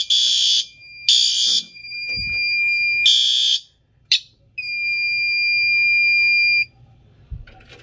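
A fire alarm set off by a test of a Fire-Lite BG-12LX pull station blares loud, close electronic tones: several short bursts separated by gaps, then one sustained tone lasting about two seconds before it cuts off.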